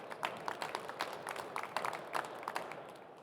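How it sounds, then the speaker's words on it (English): A conference audience at an industry pitching session on hydrogen and fuel cells applauds, a scattered patter of many individual claps, moderately loud and fairly close, with no talk over it. "This is your applause."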